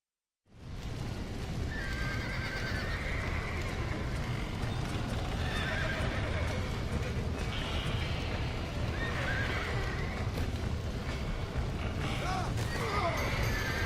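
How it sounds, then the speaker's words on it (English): Horses in the Red Dead Redemption video game whinny repeatedly over a continuous clatter of hooves, with creaking mechanisms and a rough, busy rumble underneath. "Get that horse back! Get it moving!"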